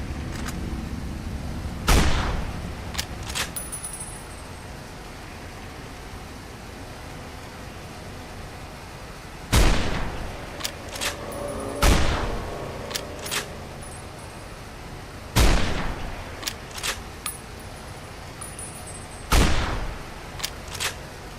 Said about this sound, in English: the marked men are shooting at the death claws, it looks like